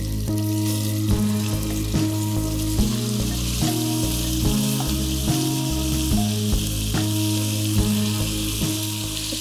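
Cooked rice tipped into a pan of ghee-roasted cashews and almonds fries over lowered heat, a constant loud sizzle broken by rhythmic scraping stirs, close up and with no voices.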